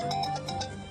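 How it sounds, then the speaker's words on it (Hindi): A short, close phone ringtone plays in a repeating, chiming pattern. "भाई का फोन है।"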